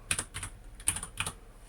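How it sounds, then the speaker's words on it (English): Typing on a computer keyboard in a quiet room: a few separate bursts of quick, close key clicks with short pauses between them, and no talking. "then you can start typing"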